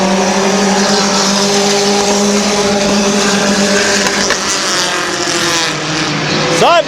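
Race cars roar around Midvale Speedway, a loud sustained engine howl from several cars running side by side, with a pitch sweep near the end as one passes close; an announcer talks over it.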